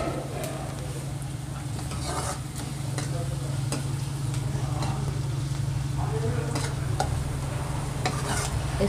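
Onions frying in a pan for a curried potato dish, with a steady sizzle and repeated stirring scrapes over a constant low hum, close and moderately loud.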